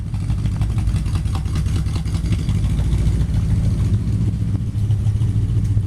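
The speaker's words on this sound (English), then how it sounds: "Art Chrisman tuned flatty" Tuned flathead V8 in a 1932 Ford Model B roadster hot rod idles steadily with a deep, continuous low rumble and a slightly uneven lope, close and fairly loud, with no voices.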